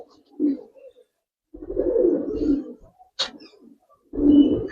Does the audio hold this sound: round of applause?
no